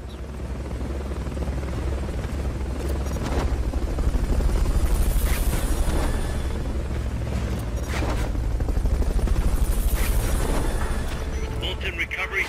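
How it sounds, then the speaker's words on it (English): Helicopter rotor drone from the video game Metal Gear Solid Peace Walker, a steady loud thumping hum filling the whole stretch with low rumble, swelling in two louder passes. "Fulton recovery subject confirmed onboard helicopter."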